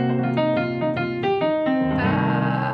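A short blues-scale lick on piano: a quick run of distinct struck notes climbing and settling, ending on a sustained chord, played alone and close.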